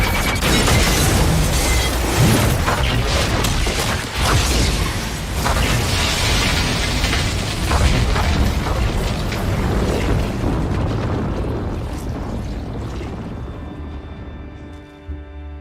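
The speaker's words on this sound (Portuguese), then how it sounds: "uma explosão acontece e o Hopper também é dado como morto" A loud, sustained explosion sequence from Stranger Things season 3, with a dense roar of booms and debris filling the sound that slowly thins and fades toward the end, without talk.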